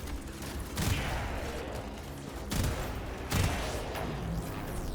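Assault rifle fire in the video game Warframe, with repeated bursts of rapid shots and a few heavier booming impacts amid continuous battle noise, loud and dense, with no talk.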